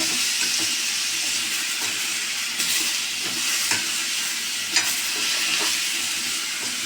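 Eggplant frying in a pan at home, a steady loud sizzle with occasional scrapes and knocks of a spoon stirring through the pieces.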